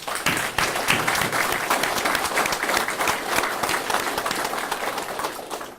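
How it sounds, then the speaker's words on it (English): Dense, energetic clapping from a large audience continues evenly from start to finish. "Kugler, let's give him a round of applause."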